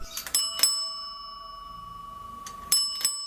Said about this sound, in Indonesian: disusul denting lonceng kecil, seperti yang biasa dipakai di leher kuda delman.